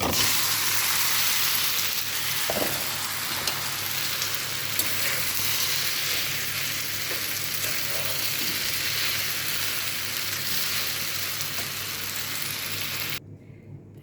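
Food fries in white vegetable oil for Arabian semai, a continuous bright crackling sizzle holding steady for many seconds with a few faint utensil touches before cutting off at the end.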